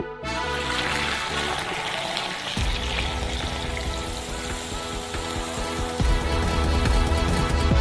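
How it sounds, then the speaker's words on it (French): Just-boiled hot coffee poured from the stove pot through a sieve into a large glass, a continuous close splashing stream with liquid gurgling and a faint hiss, no talk. "Le café est déjà bouillant, retirez-le de la cuisinière et versez-le dans un grand verre."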